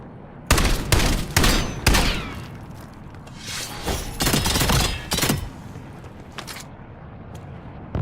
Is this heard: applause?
no